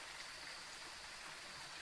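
Rain falling in the Phasmophobia video game, a faint, steady, even hiss with no break.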